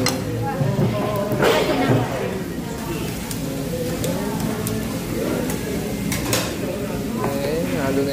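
Rice is mixed into dakgalbi in a pan with clattering, scraping metal utensil strokes, close up, under steady talk and restaurant chatter.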